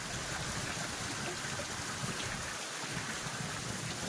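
Steady, dense rain pours down in a continuous hiss, loud and close, with no voices and no breaks.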